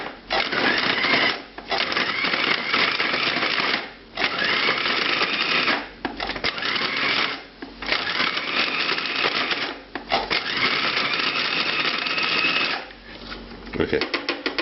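A food processor pulses coarse dough for a classic French rabbit dish, roughly seven loud whirring bursts of a few seconds each, separated by brief pauses, close and steady in rhythm.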